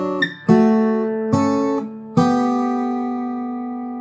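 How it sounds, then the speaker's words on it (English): Guitar playing a measure of Randy Newman's "When I'm Gone", including the open second string with a fretted first-string note: a few plucked note pairs struck at intervals, ringing out close and clear, the last left to decay. "So to play that measure again, it sounds like this."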